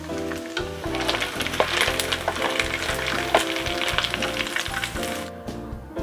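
Small anchovies (ikan teri) fry in a pan with a dense, continuous sizzle and crackle, close and fairly loud, with occasional stirring noises throughout.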